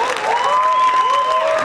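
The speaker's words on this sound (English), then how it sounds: "Give them another round of applause to cheer them on" Audience applause and cheering at a high school symphonic band spring concert, a continuous dense clapping from the crowd with a sustained tone sounding alongside it.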